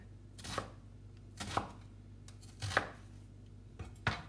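An onion being cut into big pieces on a board, four or five separate knife chops spaced about a second apart, close and fairly quiet.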